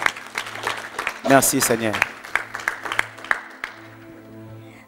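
Church audience clapping and cheering to acclaim the Lord during a French-language prophetic broadcast, a short burst of applause and voices rising over a speaking voice and a sustained organ-like tone.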